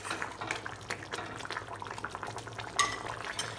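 Bengali-style katla fish curry gravy with green chillies and potatoes boiling in a pan, a continuous close bubbling and sizzling with a brighter clink near the end.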